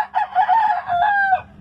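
A roughly two-year-old giro fighting rooster crows once on a small farm, loud and close, a drawn-out call that rises and then breaks off.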